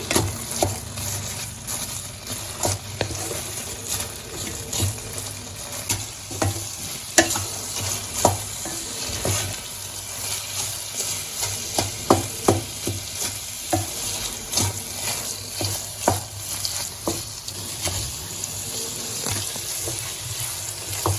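Bread pieces soaking and cooking in milk in a pan for bread halwa, with steady soft sizzling and bubbling plus frequent stirring and scraping noises throughout, close and fairly loud, no voices.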